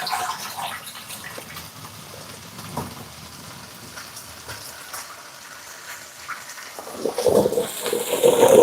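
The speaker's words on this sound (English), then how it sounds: "We're gonna strain off the water and get them ready to put in our pot right here." Water from boiled potatoes is poured off from a pot into a strainer at a home stove, a soft continuous splashing pour that swells louder and fuller toward the end.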